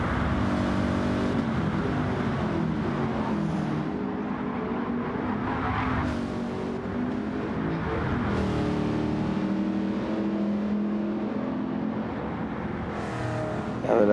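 A race car engine in Gran Turismo 7 drones loudly and continuously, its pitch rising and dropping as it revs through gear changes, with no voices over it.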